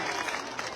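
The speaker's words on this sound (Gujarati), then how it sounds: "જોરશોરથી તાળીઓ પાડો" A crowd at a BJP election office inauguration in Shahpur claps vigorously, a short, dense and fairly loud burst of applause with slight swells in intensity.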